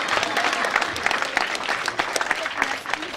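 An audience at a school prize-giving day claps steadily and loudly throughout, a dense sustained applause with a few scattered voices mixed in.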